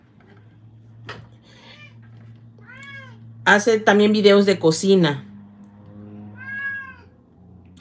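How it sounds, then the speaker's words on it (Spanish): A domestic cat meows several times close to the microphone, with a short, insistent burst of loud, drawn-out cries in the middle, while someone talks over it. "Este, mi gato, mi gato."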